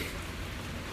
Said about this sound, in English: But don't stand out here in the rain,